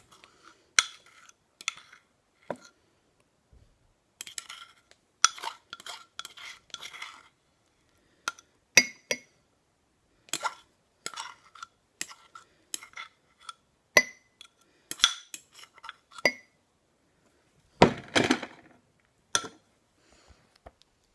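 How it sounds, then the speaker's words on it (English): A spoon scrapes and clinks against a glass bowl and mug as mug cake batter is transferred, in scattered short taps and scrapes with quiet gaps, close and fairly soft. "I make sure that I scrape every single last piece out so I don't waste anything."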